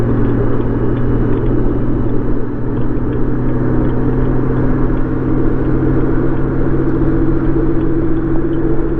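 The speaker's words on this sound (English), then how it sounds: "That guy's got the pedal down and he's going for high gear." Car engine under hard acceleration on the road, a loud continuous droning rumble heard from inside a vehicle, with a steady engine tone holding throughout and no talking.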